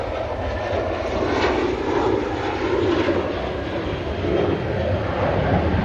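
Hainan Airlines Airbus A330 jet engines roar in a steady, loud broadband rush at an airport, holding constant with slight swells throughout.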